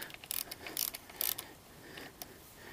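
A torque wrench tightens the nut-side fork nuts on a Kawasaki KLX/Suzuki DR-Z 400 motorcycle, giving a few faint, quiet ratcheting clicks in short bursts.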